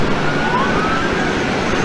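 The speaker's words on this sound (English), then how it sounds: "You hear the police cars in the background." Police car sirens wail in the background outdoors, a steady high tone rising and falling over loud, rumbling street and wind noise.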